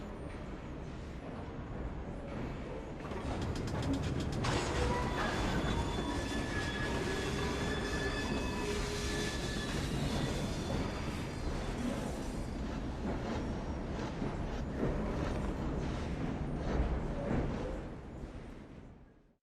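A steam-era train in Victorian London in Assassin's Creed Syndicate, rolling steadily with rumbling wheels, rhythmic rail clatter and high metallic squeals that swell in and hold before fading out at the end.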